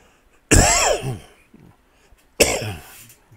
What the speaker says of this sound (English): Now I'm starting to cough because I'm talking